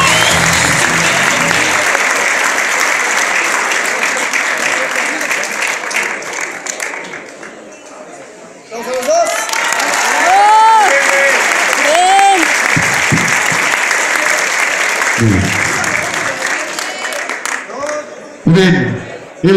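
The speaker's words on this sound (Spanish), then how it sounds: "Fuerte el aplauso al peleador." A crowd at a submission fighting event applauds the fighter, with loud sustained clapping and cheering, a brief dip in the middle, then renewed applause alongside an announcer's amplified voice and shouting.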